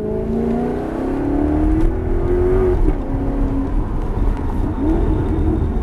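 A Maserati GranTurismo S accelerating on a race track, a loud interior engine drone rising steadily in pitch, dipping at a gear change, then climbing again.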